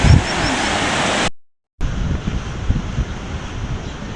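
Strong Typhoon Uwan winds roar with crashing waves at a pier, a dense broadband rush that breaks off briefly and then resumes with gusty surges.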